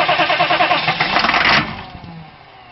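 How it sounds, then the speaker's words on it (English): Engine with a repaired injection pump cranking rhythmically for about a second and a half, then catching and settling into a softer running idle, close and fairly loud. "Crank her up!"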